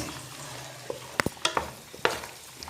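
A spoon scrapes and knocks inside a pot of Kabyle tahwoult el marqa, giving a few sparse, close clicks and scrapes over a faint low simmer, with no talk.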